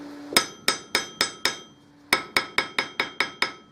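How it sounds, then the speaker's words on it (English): A hammer strikes an unmounted anvil in two rhythmic runs of ringing metallic blows, five and then eight, each clang bright and close with a short decay. "That's what the anvil sounds like before I bolt it down."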